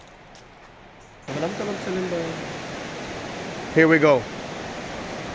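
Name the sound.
roar of waterfalls at Dan nature reserve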